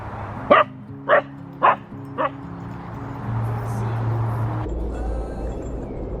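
Dogs bark in four sharp, evenly spaced yaps close by, then a steady low background hum and rustle carries on without further barking.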